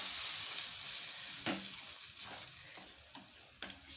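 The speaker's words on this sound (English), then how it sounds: "We will add tomato puree to it and give it a nice stir." Tomato puree stirred into cooked onions in a pan, a soft continuous sizzle with a few sharp spoon knocks against the metal, fairly quiet and with no talking.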